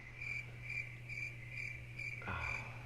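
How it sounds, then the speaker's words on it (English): Crickets chirp in rhythmic pulses, about six evenly spaced trills over a steady low hum, fairly faint and close, with a brief dull knock near the end and no talking. "Oh, crickets."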